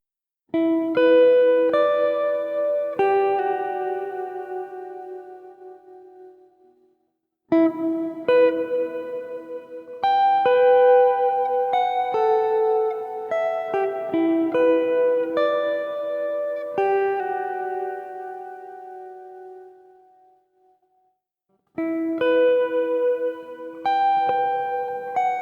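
Clean guitar chords through an Alesis GuitarFX with reverb maxed out ring out with heavy, long reverb tails that wash and linger between strums, in a few separate passages.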